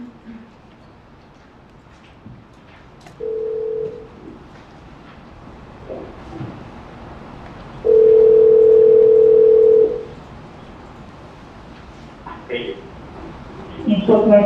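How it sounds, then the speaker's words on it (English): A telephone dial tone plays in two steady bursts, a short one and then a longer one of about two seconds, over a quiet room background. It sounds during a murder trial hearing, with faint noises and talk-like sounds near the end. "it's a call from Catherine McBanwa to Charles Adelson at 10:42 a.m"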